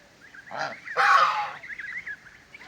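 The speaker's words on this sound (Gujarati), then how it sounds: "જો એટલા બધા બતક છે" Ducks on a farm orchard call out, two loud honking quacks close together followed by fainter chattering calls from the flock in the background.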